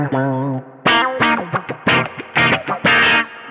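Guitar notes pass through an effects pedal's filter that sweeps upward, giving each plucked note a bright, vowel-like quack. The short notes are played at an uneven rhythm.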